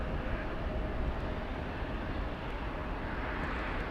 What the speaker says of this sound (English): It landed 5 minutes early. And taxiing pretty quick. My goodness, on taxiway Echo.